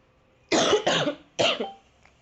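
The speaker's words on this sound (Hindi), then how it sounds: "मेरा ना खांसी से जान जा रहा है" A person coughs three times in quick succession, close and fairly loud, then falls quiet.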